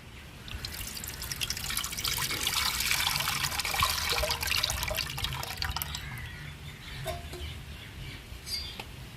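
Dissolved tamarind water poured into a dried-fish curry (karuvadu kuzhambu), a steady splashing liquid pour that fills most of the stretch, loud and close, easing off toward the end with a few drips.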